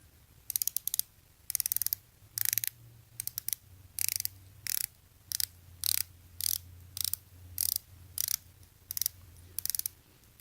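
Bezel of a Casio MTD1079D diver-style watch rotating counterclockwise, giving quick bursts of crisp ratcheting clicks in short repeated runs with brief pauses, close and quiet.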